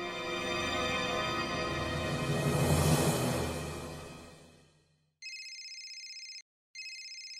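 A phone's electronic ringtone trills loudly in two bursts with a brief gap, following a fading swell of background drama music.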